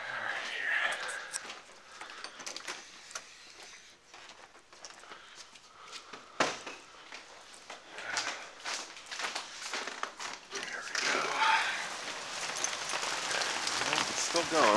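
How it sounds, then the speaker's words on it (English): Heavy rain and hail pound down during a severe thunderstorm in Oakland, making a dense, steady hiss with sharp clattering bursts that grow louder toward the end. Faint voices sit in the background. "It just looked like a wall of rain and hail and messiness."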